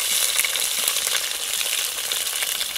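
Onions frying in hot oil with mustard seeds and dried red chillies give off a loud, dense, continuous hiss and crackle, close and steady with no voices.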